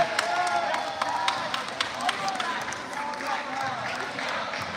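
Crowd cheering and clapping after a goal at a boys' varsity high school soccer playoff game, with broadband roar, scattered sharp claps and shouts, and voices babbling throughout at steady, fairly loud level.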